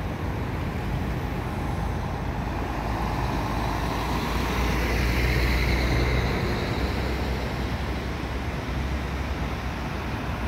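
Executive coach leaving Porto Alegre bus station for Caxias do Sul: a continuous low diesel engine rumble that swells slightly midway, loud and steady amid station traffic noise, with no voices.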